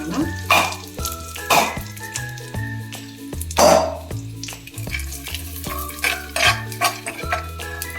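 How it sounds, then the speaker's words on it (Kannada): Pistachios heated and stirred in a hot pan, with repeated scraping, rattling stir strokes in a steady rhythm under a loud musical backing, close and clear. "ಇವಾಗ ಪಿಸ್ತಾ ತಗೊಂಡಿದ್ವಲ್ಲ ಅದನ್ನು ಬಿಸಿ ಮಾಡ್ಕೊಳ್ಳೋಣ."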